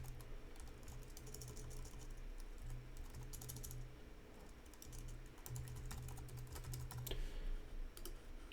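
Typing on a computer keyboard while entering a project name, a steady run of close, quick key clicks with brief pauses, no voices over it.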